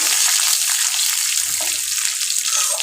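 Mustard seeds crackle and spit in hot oil as chili and cumin are added for a Hyderabadi sour dal, a steady close sizzle with faint scattered pops throughout.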